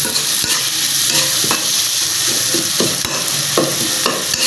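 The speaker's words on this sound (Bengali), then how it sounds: "আমি কিছু পেঁয়াজ দিয়ে দিলাম, তারপর কিছু কাঁচামরিচ, একটু লবণ দিয়ে পেঁয়াজটা ভালো করে ভেজে নিতে হবে।" Onion with green chili and a little salt frying in hilsa fish oil in a pan, a steady loud sizzle broken by repeated scraping stirs.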